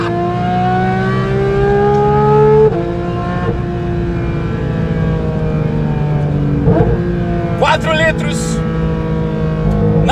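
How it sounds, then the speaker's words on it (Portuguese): A Porsche 911 GT3's naturally aspirated flat-six boxer engine runs loud and steady throughout, its pitch shifting as it revs, with someone talking over it. "Adivinha? É um motor de pista."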